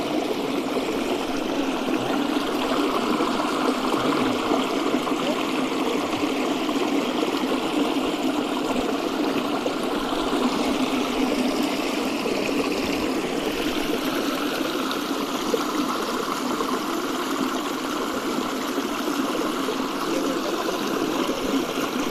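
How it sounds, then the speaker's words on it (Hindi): Spring water flows steadily from a chashma in a hill village, a continuous, fairly loud rushing and trickling with no break or voices throughout. "यहाँ पे चश्मा वाकई मौजूद है"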